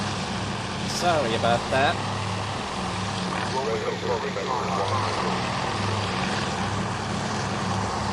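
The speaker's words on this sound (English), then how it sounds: "planes are just gonna be loud as hell, I'm afraid" Propeller-driven aircraft engines in the naval strategy game Task Force Admiral drone steadily and loudly throughout, with a person briefly talking over the constant hum.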